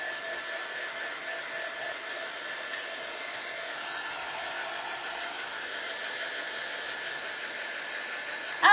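A hair dryer blows steadily on a craft project, a wire bunny in a frame, its constant whooshing drone holding level and close throughout, ending with a brief louder bump.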